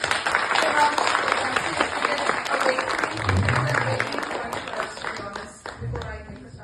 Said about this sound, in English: let us give a huge round of applause for them